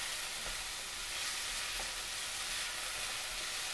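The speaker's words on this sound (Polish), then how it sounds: "Cebulka podsmażona." Onion frying in a pot during vegan one-pot coconut-lemon pasta cooking: a steady, even sizzle with faint crackles throughout, close and continuous with no voices.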